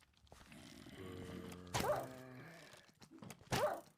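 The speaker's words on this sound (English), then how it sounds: "I hate the kill on the dog sound" Dog whimpering as it is killed in the Minecraft modpack Vault Hunters: a drawn-out, pitched yelping whine, then two sharp, loud cries close up, with no talk.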